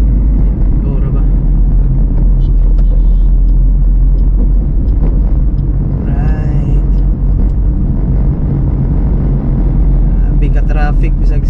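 Steady low rumble of city traffic from inside a moving car on a Sunday drive in Cagayan de Oro, with passing vehicle engines and occasional horn-like tones, continuous and fairly loud, with people talking in the car.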